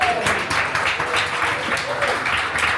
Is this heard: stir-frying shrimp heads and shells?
no